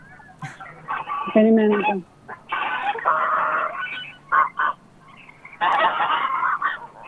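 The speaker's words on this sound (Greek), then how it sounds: "Λοιπόν, η κότα, παιδιά, είναι μια κλασική." Hens cluck and squawk inside a coop in Kranidi, Greece, where eggs are being collected. The calls come close and loud in several bursts, with people talking over and between them.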